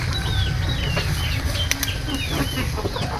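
Backyard chickens feed on a snack of moringa leaves, with soft clucks, thin chick-like chirps and occasional quick wing flaps over a steady outdoor rumble.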